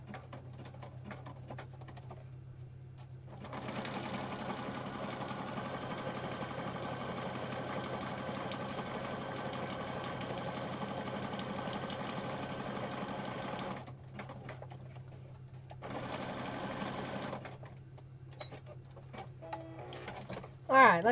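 A sewing machine runs in two stretches, a long steady whirring stitch followed by a shorter burst, with quiet gaps between and a low hum underneath.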